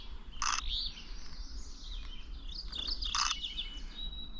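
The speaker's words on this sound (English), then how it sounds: "That is a morning warbler." A morning warbler sings outdoors in Nova Scotia: two brief, bright song bursts about three seconds apart, faint and distant over a soft background of insect hum and low rumble.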